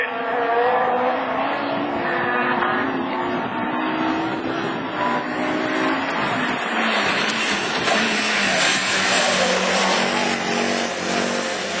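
Division 4 rallycross cars at the Lessay round of the 2013 French championship, engines revving and rising through gears as several cars race past together, a loud continuous roar with shifting pitch and tire noise, race commentary faintly underneath.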